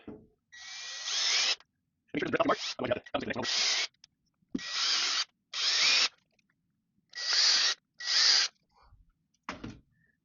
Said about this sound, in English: Next thing you want to do is you want to pre-drill your holes